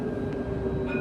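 Tram moving along its rails, a steady low rumble with a faint whine, heard from inside the car throughout with no speech.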